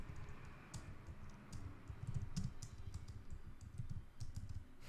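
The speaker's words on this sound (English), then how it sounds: "sorry for my typing" Rapid typing on a computer keyboard, a steady irregular stream of soft, close key clicks with occasional louder taps, alone without talk.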